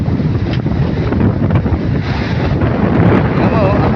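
Strong southwest monsoon wind roaring into the microphone on a shoreline where waves run up toward houses, a loud, unbroken rumble of gusts and surf with a voice faint beneath it.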